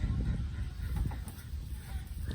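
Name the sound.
ducks quacking on a farm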